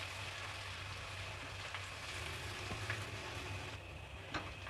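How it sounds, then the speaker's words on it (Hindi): Ginger garlic paste and onions fry in a pan with a faint, steady sizzle that hisses continuously, with a few soft clicks and nothing else over it. "अब हम इसमें 1 table spoon ginger garlic paste का ऐड करेंगे और प्याज के साथ इसको अच्छे तरीके से हम लोग फ्राई करेंगे जी"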